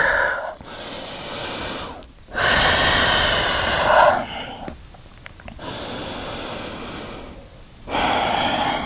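Steady breathing during an at-home yoga arm-strength flow, long broadband breaths, inhales and exhales alternating with short quiet gaps, close and fairly loud, with no talking.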